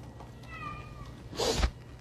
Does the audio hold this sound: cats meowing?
yes